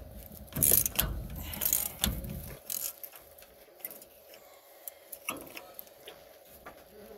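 Metal clicks, ratcheting and tool clatter from removing a 2 9/16 inch six-point axle nut during a Dana 60-70 rear disc brake conversion on a first-gen Cummins truck, with a few loud bursts early and scattered lighter ticks later.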